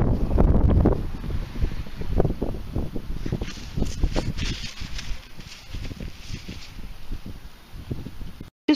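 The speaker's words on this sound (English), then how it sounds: "It's a bit windy" Wind gusts across an open field during a metal detecting outing in the UK, buffeting the microphone in loud, rumbling bursts that continue steadily throughout.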